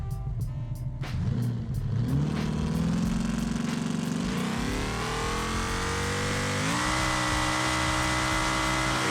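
A trail truck in BeamNG launches hard off the line on a transbrake in second gear, its engine roaring loudly and climbing steadily in pitch through a long, continuous pull with no talking.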